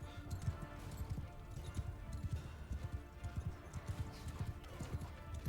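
Hooves clop in a rapid, rhythmic gallop from a horse in the medieval combat game Mount & Blade II: Bannerlord, steady and fairly close throughout with no voices over it.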